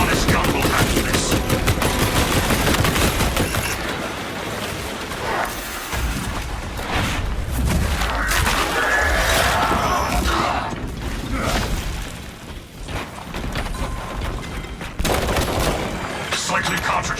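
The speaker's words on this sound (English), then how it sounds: "My servo-harness gun will handle this." Dense, continuous automatic gunfire from a servo-harness gun in the video game Space Marine 2, loud and sustained with booming impacts, mechanical clatter and shattering debris layered in a chaotic battle mix.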